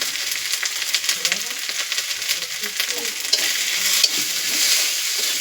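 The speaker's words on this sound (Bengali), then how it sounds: "এবার এটাকে নাড়িয়ে নেওয়া হবে।" A spiced amadi fish curry is stirred in a hot frying pan, giving a continuous bright sizzle with scraping and stirring scuffs throughout, close and fairly loud.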